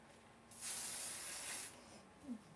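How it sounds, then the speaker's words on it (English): An aerosol can of Aussie Mega hairspray with 24-hour flexible hold gives one steady hiss lasting just over a second, close and fairly loud, then cuts off into quiet. "I needed a new hairspray because other than that, I have Aussie Mega Hairspray 24-hour flexible hold"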